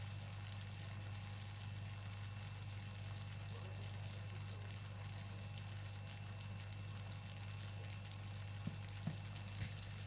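A mushroom sauce sizzles gently in a frying pan while being stirred, with a quiet, continuous frying hiss, soft scraping movements, and a couple of small knocks near the end.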